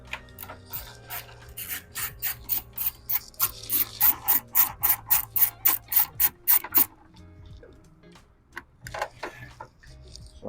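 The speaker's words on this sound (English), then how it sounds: "I've got an extension and I've got my 1/4 inch drive ratchet." A 1/4 inch drive ratchet with an extension and a 10 size socket turns out a screw during a car battery change, giving a quick series of sharp, evenly spaced clicks. It then falls to a few scattered fainter clicks.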